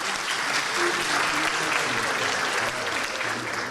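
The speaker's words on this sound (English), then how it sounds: "We want to give them a round of applause and thank them for doing this for us today." Attendees at a multiple sclerosis symposium applaud a pharmaceutical sponsor, a full, continuous round of clapping with a faint murmur of voices underneath, lasting just under four seconds.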